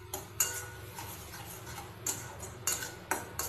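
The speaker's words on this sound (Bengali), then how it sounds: "দিয়ে দেখো ওটা দিয়েই ভালো করে আবারও নাড়ছি" A utensil stirs a spiced fish curry (kalia) in a pan, making quiet, close scraping clicks that come in an uneven rhythm of several strokes over a low background.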